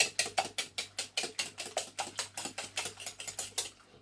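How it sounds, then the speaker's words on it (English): Eggs are whisked in a bowl by hand for baking, a fast, even run of about twenty sharp rhythmic clicks and scrapes close up, no talk. "I'm going to do one more extra whisk."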